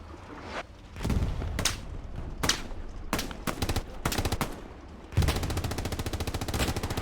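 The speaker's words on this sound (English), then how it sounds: "extra infantry shooting at Bob there as well" Infantry gunfire in a video game battle at Carentan, with dense machine-gun bursts and scattered single shots rattling continuously, punctuated by heavier thuds, loud and close, ending in a sustained rapid-fire stream.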